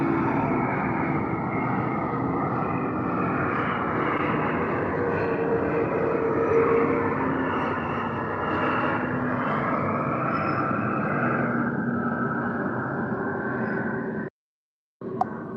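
An airplane roars overhead as a loud, steady broadband engine rush that holds for about fourteen seconds, then cuts out abruptly.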